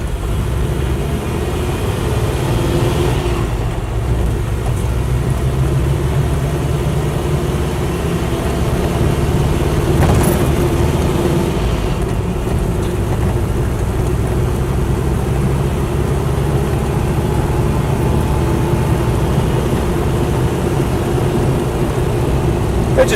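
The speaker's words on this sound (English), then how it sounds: "that noise goes away when the clutch is depressed. So I suspect it is the clutch thrust bearing." A Land Rover Series III with a V8 conversion drives steadily, its engine droning with a low rumble and a faint whine from a worn clutch thrust bearing, loud and continuous with no talk.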